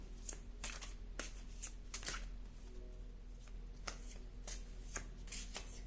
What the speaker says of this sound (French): on va prendre 2 cartes en plus